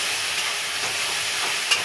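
Green chillies are added to masala sizzling in hot oil for a pabda fish curry, giving a steady, close hiss of frying with a faint stir near the end.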